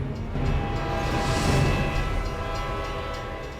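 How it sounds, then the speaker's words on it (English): A moving freight train in a film scene from Duel passes with a loud, continuous rumbling roar that swells and fades slightly over a few seconds. "the train passes and he never hits the train"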